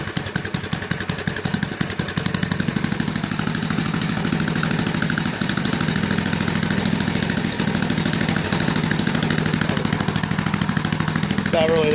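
An older Ariens gas snow blower engine runs steadily at a close, loud, even idle with a clattering mechanical pulse that holds for the whole stretch.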